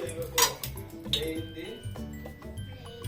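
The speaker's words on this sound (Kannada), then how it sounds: "ಇಲ್ಲಿ ಒಂದು ಪಾತ್ರೆ ಇಟ್ಕೊಂಡು ಸ್ವಲ್ಪ ಆಯಿಲ್ ಹಾಕೊಂಡಿದ್ದೀನಿ" A cooking pot handled on a home kitchen stove while millet bisibele bath is being prepared, with a few metallic clinks and knocks set under steady talking.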